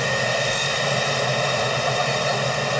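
Twin engines and two generators of a luxury yacht run together in a steady, loud, broadband drone with a constant low rumble and hiss, unbroken and without voices.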